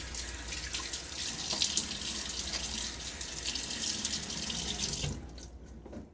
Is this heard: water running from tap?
yes